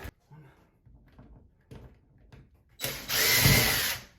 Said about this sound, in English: So let me drill these.